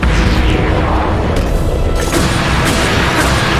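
Ganon blowing up after a parried attack in the video game The Legend of Zelda: Breath of the Wild, a loud, dense rumbling blast that stays steady throughout, with sharp bursts breaking through partway along.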